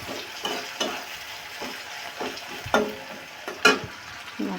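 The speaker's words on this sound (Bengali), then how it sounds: "এটাকে ভালো সুন্দর করে একটু ভেজে নেব পেঁয়াজটা।" Onion and chilli frying in a pan, a soft continuous sizzle broken by periodic stirring strokes and sharp utensil clinks against the pan.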